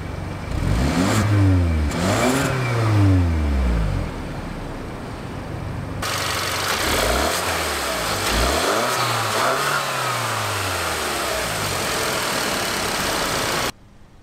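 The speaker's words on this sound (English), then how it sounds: "that was the 2-liter turbo 4-cylinder" A 2017 Kia Optima's 2-liter turbocharged four-cylinder starts and is revved in several rising and falling sweeps, then settles into a steady idle, loud and close, with a single final rev before cutting off.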